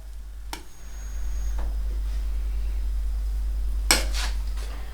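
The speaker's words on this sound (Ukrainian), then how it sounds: "Гриби киплят і обов'язково їх потрібно перемішувати" A spoon stirs a pot of boiling honey mushrooms, giving a couple of bright metallic clanks against the pot over a steady low stove rumble, with no voices.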